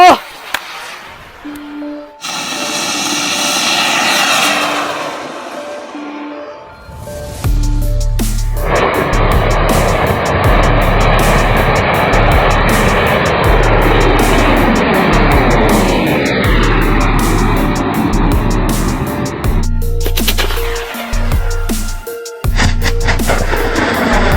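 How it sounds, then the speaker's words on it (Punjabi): A homemade sulphur-potash rocket, set off using a motorcycle's ignition and horn, roars with a long, loud, rushing hiss under a deep engine-like rumble, then cuts off abruptly with a few sharp bursts and voices. "ਉਹਦੇ ਨਾਲ ਆਪਣਾ ਜਿਹੜਾ ਰਾਕਟ ਉੱਡੂਗਾ ਜਾਂ ਫਟੂਗਾ"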